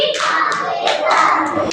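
Hands clapping along with a children's clapping song in Hindi: a run of sharp claps over sung or chanted voices, spaced irregularly through the clip.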